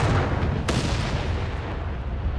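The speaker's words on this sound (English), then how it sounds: "You got artillery called in from it." Delayed-fuse artillery barrage in Company of Heroes 3, heard as a dense, continuous rumble of booming shell impacts with one sharp crack near the start, loud and sustained throughout.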